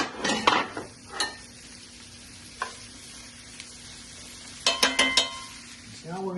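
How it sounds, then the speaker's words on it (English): Mushrooms frying in butter and steak fat give a soft steady sizzle, broken by a few sharp utensil clinks and scrapes against the pan, with no talking. "So I'm going to put the mushrooms in that. And some of that beautiful steak fat. And I'm going to add some butter to this."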